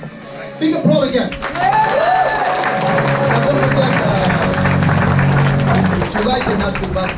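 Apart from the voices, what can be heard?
audience applause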